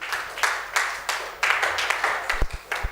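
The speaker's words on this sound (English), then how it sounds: "Can we give a round of applause to this great company?" A small audience at a company event claps in loose, uneven bursts, several sharp hand claps spaced around the room, fairly quiet and thin, with a few low thumps near the end.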